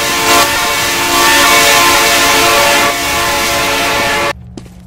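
Loud, steady train rumble with a sustained horn blast in the Roblox game Evade, roaring continuously before cutting off abruptly near the end.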